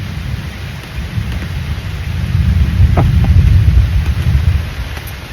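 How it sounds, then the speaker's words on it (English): Rain falls steadily while low thunder rumbles and swells in the middle before easing, with a few sharper drips heard close by. "And you just sit here and wait for the rain."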